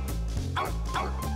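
A pet dog barks and yips several times in quick succession, close and fairly loud, with whimpering tones between the barks.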